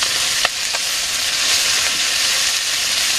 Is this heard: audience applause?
no